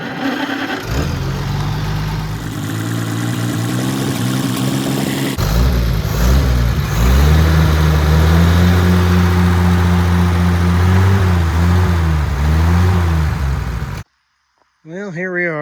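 An Oliver Super 77 tractor engine runs loud and steady after a carburetor fix, its throbbing note rising and falling as the revs change, before cutting off abruptly near the end.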